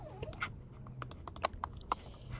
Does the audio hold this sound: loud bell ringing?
no